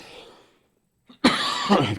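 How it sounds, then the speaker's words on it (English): A soft breath trails off into near silence, then a sharp intake leads into a loud, harsh cough burst close to the microphone. "I'm going to cough"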